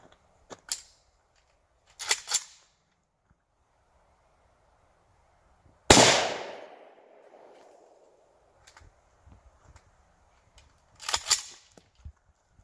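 An AK rifle fires 7.62x39 rounds into a television: a few sharp, separate reports with a pause between them. One loud close blast rings out and trails off, and a faint mechanical clatter and metallic handling noises come in between.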